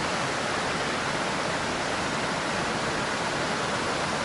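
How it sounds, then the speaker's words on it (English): Steady rushing water from a creek running near waterfalls, a dense, even broadband roar that stays constant and close with no voices. "Right now the creek is running"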